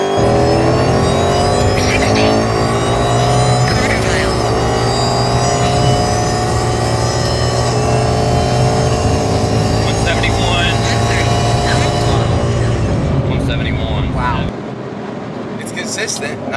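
A Roush-equipped car's engine droning loud and steady through an acceleration pull, with the tone rising and then dropping off near the end, while people talk over it inside the cabin.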